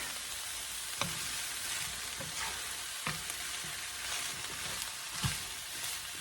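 Ground beef and zucchini frying in a hot skillet, a steady dense sizzle with soft scraping stirs and occasional light taps of a utensil against the pan.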